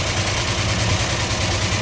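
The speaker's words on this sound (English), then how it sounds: "Then you hear the roller rockers." A 1967 Dodge Charger V8 engine idles with a deep, even rumble, a fast light ticking from the roller rockers running steadily over it.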